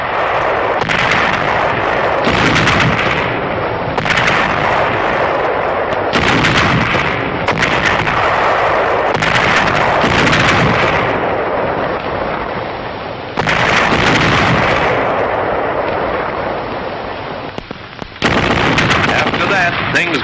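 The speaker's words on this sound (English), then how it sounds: "The nights were often very warm for February when a high-trajectory artillery duel was on." High-trajectory artillery duel with division and corps guns firing at night, heavy booming blasts repeating every second or two in loud rolling bursts, with a voice speaking over the barrage.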